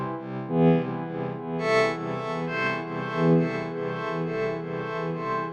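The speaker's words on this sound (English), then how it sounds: "You hear that huge reverb?" Heavy reverb effect built with MetaSounds in Unreal Engine 5, with a long decay time, washing a sustained, distorted synth-like tone into a dense, swelling wall of sound that pulses every second or so, with no voices.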